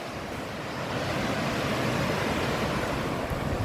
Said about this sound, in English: This is a very pretty waterfall